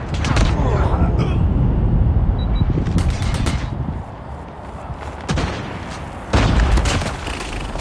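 Gunfire from an MK2 gun in a video game, repeated sharp shots and bursts over a dense game soundscape, loud and close, with a few distinct louder blasts toward the end.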